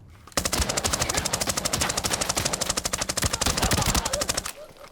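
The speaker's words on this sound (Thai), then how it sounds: "ผมเลยสาดกระสุนแบบเต็มแม็กไปเลย" A full magazine empties in one long automatic burst in the shooter game Arena Breakout, loud and close, rapid shots hammering for about four seconds before cutting off abruptly.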